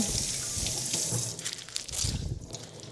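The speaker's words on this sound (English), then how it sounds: "I kind of run it under water and then like break it up and then re-crumple it" Tap water runs steadily over crumpled parchment paper being rinsed for sourdough baking, a close continuous splashing hiss with crinkly surges as the paper shifts under the stream.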